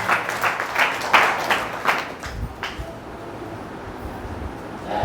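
Congregation clapping during a Sunday worship service at Jesus the Door Church, a burst of irregular hand claps in a reverberant room that thins out and fades after a few seconds, leaving quiet room noise.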